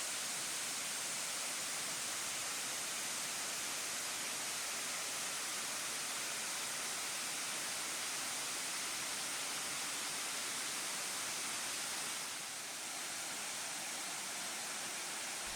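Steady, dense roar of a waterfall pouring over a rock shelf at Empress Falls in the Blue Mountains, Australia, loud and continuous with no pauses, briefly dipping slightly near the end.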